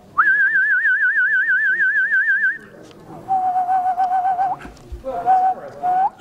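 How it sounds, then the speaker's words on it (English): A person whistles a sustained tone with a steady, wavering vibrato for about two and a half seconds, then follows with two shorter, lower, steadier whistled notes over faint background noise. "When a whistler puts vibrato on a tone, it can come in different ways."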